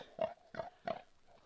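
Pigs grunting in a pasture: three short, close grunts in quick succession, followed by a fainter fourth, with no talk.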